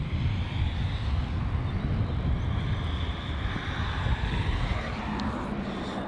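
A Qantas Airbus A330-200 jet taking off produces a steady, broad engine roar at a moderate distance, holding constant without pause throughout.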